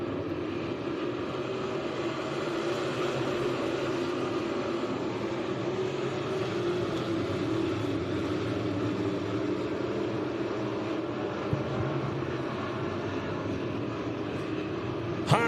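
Race cars running the opening lap at the 141 Speedway, a steady, dense engine roar that holds at a constant level throughout, with a brief louder burst near the end.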